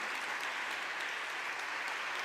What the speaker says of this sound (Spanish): yo quiero pedirle un gran aplauso para todos nuestros speakers